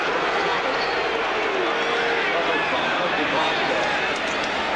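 A stadium crowd of about 76,000 at Arrowhead booing during a 1990 Chiefs–Seahawks NFL game, a dense, continuous roar filling the whole stretch at steady loudness.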